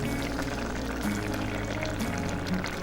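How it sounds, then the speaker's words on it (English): Beans bubbling as they cook down and thicken in a pot, a steady, close, continuous simmering burble with no voices. "That bubbling is the sound of happy beans."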